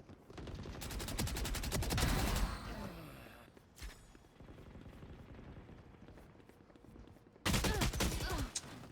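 Gunfire in a shooter video game comes in two dense, rapid bursts of automatic shots, one early and one near the end. Between them are quieter scattered thumps and rustling movement.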